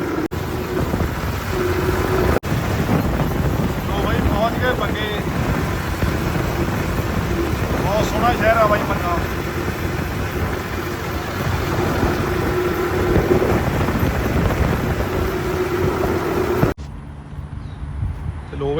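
A Ford 3600 or Massey tractor drives along a road in rural Punjab with a steady, loud engine drone and wind rumble throughout, faint voices underneath, cutting off abruptly near the end.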